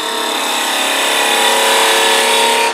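Wood lathe making a parting cut on a hot air balloon ornament blank, a continuous loud, close scraping hiss of the tool against spinning wood, steady for almost three seconds with no talk.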